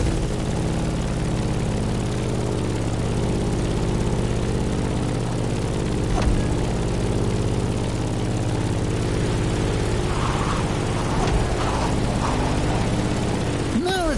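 Propeller plane engine in The Crew Motorfest racing game, a loud steady droning hum with sustained low harmonics and a few brief clicks and swells, no voices.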